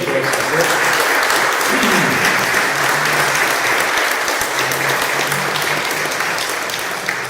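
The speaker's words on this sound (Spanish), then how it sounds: "Un aplauso para San José" Loud, steady audience applause at a religious talk honoring Saint Joseph, a thick wash of clapping from a large crowd with faint voices mixed beneath it.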